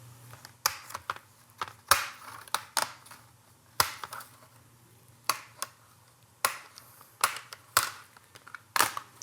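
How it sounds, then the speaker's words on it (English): Plastic clips of a Lenovo 100e Gen 4 Chromebook screen bezel popping loose as it is pried and twisted, a scattered series of sharp, close snaps and clicks at irregular intervals with quiet gaps between. "twist till you hear that pop. Slowly go down each side of the bezel as to not damage it."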